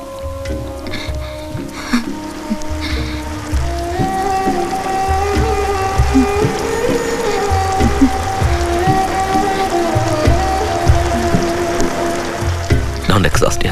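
Steady rain falling in a film scene, a continuous crackling patter on surfaces that runs throughout at moderate loudness, with low rumbling and sounds of movement mixed in.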